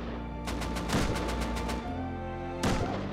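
Rapid AK gunfire in the survival game Rust, a dense burst of evenly spaced shots over a constant roaring background, followed after a pause by another loud shot, with no talking.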